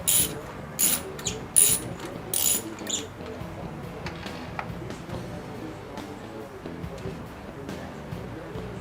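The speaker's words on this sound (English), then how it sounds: "swivel spark plug socket, which makes it a little bit easier to get it down in there and on the spark plug" A ratchet driving a swivel spark plug socket on a 2004 Mustang GT engine clicks in a few quick close bursts at first, then fades to faint, muffled working noise.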